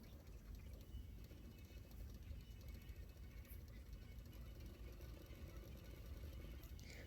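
A sewing machine runs steadily for about seven seconds as it stitches along the edges of the lining fabric for a double katori blouse. The mechanical whirr is even and continuous, with no voices heard.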